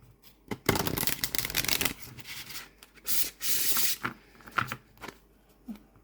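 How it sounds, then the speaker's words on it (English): Flexible linen-finish tarot and oracle cards are shuffled by hand in several close, crisp bursts of riffling and rubbing, separated by short quiet pauses. "So the shuffle, look at how bendy these cards are."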